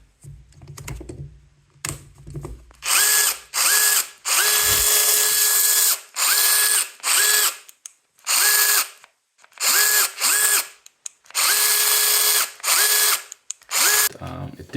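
Bosch AdvancedDrill 18 cordless drill with its gearbox stuck between gears, giving repeated bursts of loud grinding, ratcheting whine, each a second or two long with short pauses, about nine bursts close up and alone.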